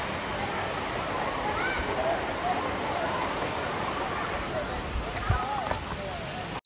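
A waterfall in Wayanad during the dry summer, with low water flow, gives a steady broadband rushing roar heard from a distance, continuous throughout with faint voices and a few footstep-like knocks near the end.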